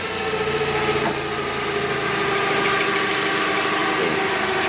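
A forklift engine runs at a steady, loud idle with a constant rumble and vibration under repair in an industrial park workshop, and no one speaks.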